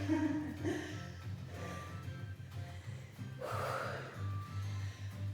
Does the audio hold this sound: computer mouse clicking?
no